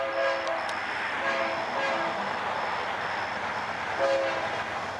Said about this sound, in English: a nice horn show from the engineer